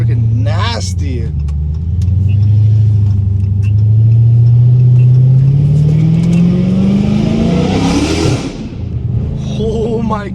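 Dodge Challenger Hellcat Redeye engine rises in a long loud rev with a climbing supercharger whine, then drops off sharply as the throttle closes, heard up close from inside with voices around it.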